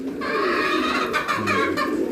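Racing pigeons coo in a loft, a soft continuous warbling chorus of several birds, fairly close and steady throughout.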